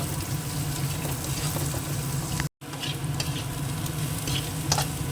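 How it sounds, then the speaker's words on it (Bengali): Chopped onion fries in hot oil in a pan after diced potatoes were browned, giving a steady, close sizzle with light stirring scrapes and a momentary dropout midway. "পেঁয়াজটাও ভাজা হয়ে গেছে"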